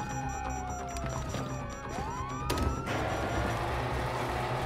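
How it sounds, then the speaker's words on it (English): Police sirens wail in Grand Theft Auto V, several overlapping sweeping tones rising and falling over a steady rumble of traffic and engine noise, getting louder and denser toward the end. "you hear that? Sirens!"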